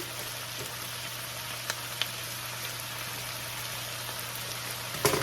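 Coleslaw mix with garlic frying in a pan, a steady even sizzle throughout with a couple of faint taps, and a louder clatter right at the end.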